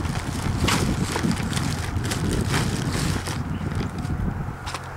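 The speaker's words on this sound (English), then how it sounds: "I said here is some of your fuel in the air. Yes, the wind." Wind blows outdoors by a sailboat being rigged, buffeting the microphone in loud gusty rushes with a few faint knocks and rustles.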